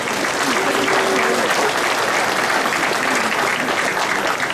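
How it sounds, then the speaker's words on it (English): Sustained, steady applause from a large audience at a Hmong American Day celebration marking 50 years of freedom, honoring veterans; dense clapping fills the whole stretch at an even level. "Please give them a round of applause."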